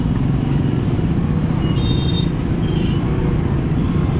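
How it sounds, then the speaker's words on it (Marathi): Road traffic idles in a jam on the way to Varanasi, a dense steady rumble of engines close by, with a few faint horn-like tones and no talk. "असं ट्रॅफिक लागलंय."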